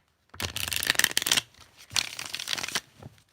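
Two bursts of crisp, riffling card shuffling, close by, each lasting about a second with a short pause between them.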